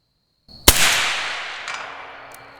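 An FN SCAR 17 rifle fires one sharp, loud shot at a steel target 260 yards away, followed by a long rolling echo and a faint later report.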